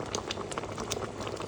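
Gooseberry jam boiling in a pan, a soft, steady bubbling and popping at close range, quiet and continuous.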